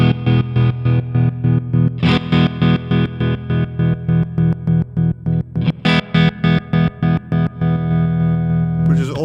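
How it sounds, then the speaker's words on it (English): Guitar notes pulse through a modulation effect, chopped into a fast, even tremolo with a buzzy, sawtooth-like edge, ending on a sustained ringing tone. "It sounds a lot more like a sawtooth sort of, the sawtooth wave instead of the sine wave"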